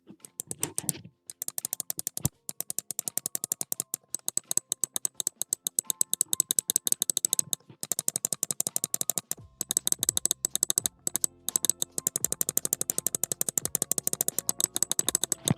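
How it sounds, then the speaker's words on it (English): Rapid, crisp clicking of new replacement switches in a modded Finalmouse Starlight-12 mouse, dense bursts of sharp clicks repeating steadily with only brief pauses, close and clear with no talking. "a quick sound test of what the new switches sound compared to the old ones"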